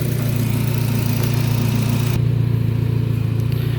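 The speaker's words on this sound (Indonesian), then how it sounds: "Untuk suara mesin juga masih halus ya lur, mesinnya juga halus." A 2008–2010 Nissan Grand Livina XV automatic idles steadily, a smooth low engine hum that holds even and continuous throughout with no revving.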